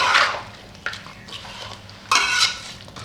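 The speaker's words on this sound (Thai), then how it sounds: "คนให้เข้ากันนะ" Pork udder with turmeric being stirred in a pot over a gas stove, with a few close, scraping, sloshing strokes in bursts and quieter shuffling in between. No one speaks.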